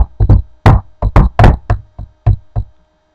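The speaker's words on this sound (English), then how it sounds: "And then Little Red Riding Hood knocked on the door" Sharp knocks on a door, about ten distinct raps in quick uneven groups, close and loud with no voices over them.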